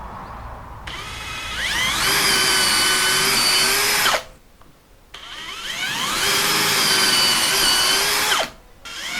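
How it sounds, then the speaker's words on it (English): An electric drill whines in two long bursts, each spinning up and running steadily for a few seconds before stopping briefly; loud and close. "I'm just gonna drill it in as it is."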